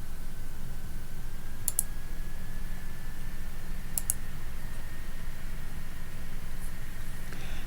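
Crisp computer mouse clicks sound while sorting an inventory management table, two quick double clicks a couple of seconds apart and a fainter third near the end, over a steady low hum.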